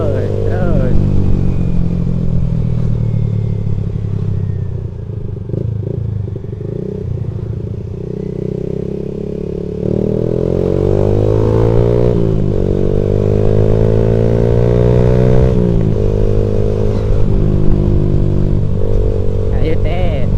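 Motorcycle accelerating on a road: a steady, loud engine drone close by that swells into harder revving partway through and holds high, with a person urging speed over the noise.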